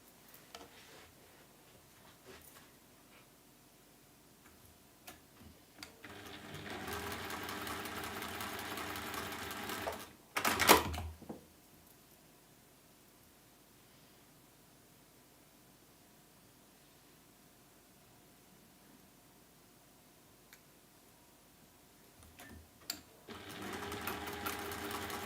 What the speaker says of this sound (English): And then we're going to sew again down both of those.